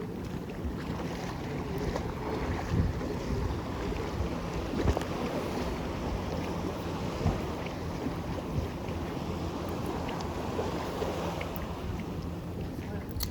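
A fishing boat comes into the harbour at Kalamatiya, its low engine rumble blending with steady wind buffeting and sea wash, a constant moderate roar with no clear breaks.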